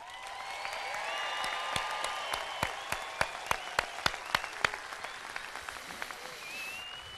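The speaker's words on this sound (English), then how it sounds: "please join me in a round of applause for our graduates" Audience at a Garden City High School graduation ceremony applauds the graduates with broad outdoor clapping and sharp individual claps, swelling and then tapering off, heard at moderate distance.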